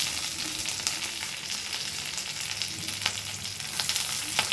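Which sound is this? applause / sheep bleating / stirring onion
stirring onion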